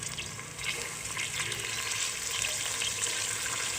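Chopped vegetables fry with moong dal in a pan for avalakki bisibelebath, giving a loud, close, steady sizzle broken by scraping stirs.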